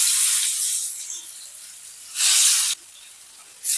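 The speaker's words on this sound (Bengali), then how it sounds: "তেল গরম হয়ে গেছে, এরপর মাছগুলোকে তেলের মধ্যে দিয়ে ভেজে নেব।" Rupchanda pomfret fish sizzle in hot mustard oil in a kadai, a loud, close frying hiss that eases off and then flares sharply twice in short bursts, with no talking.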